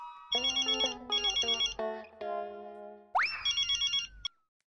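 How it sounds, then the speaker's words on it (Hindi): An electronic phone ringtone plays bursts of a bright, chirpy tune. A springy rising boing cuts in partway through before the ringing resumes and stops. "अभी मेहता सबको फोन कर लो"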